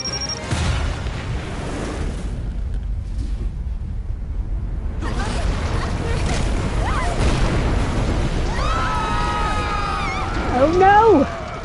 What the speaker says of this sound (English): Oh no! Bomb!